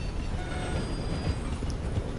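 A train in the video game Red Dead Redemption 2 rumbles past steadily, a dense low roar with faint metallic rail squeal on top, continuous and fairly close throughout.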